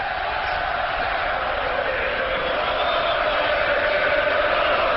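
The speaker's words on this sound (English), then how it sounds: "Listen to the crowd in the background chanting, cheering for this guy." A boxing crowd at a Danny Green versus Eric Lucas fight roars in a steady, dense wash of chanting and cheering that holds loud and unbroken throughout.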